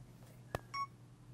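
Insta360 One camera firing a still photo: a single short electronic beep-like blip, then a brief higher chirp, faint against a low hum, with no one speaking.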